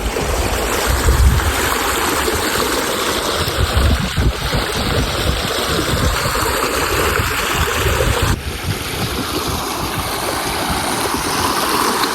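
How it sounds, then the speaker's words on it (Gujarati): Water rushes over a village causeway in full flow, a loud continuous roar mixed with wind buffeting the microphone, heard close up with no talking. "તમે જોઈ શકો છો ફૂલ પાણી જઈ રહ્યું છે"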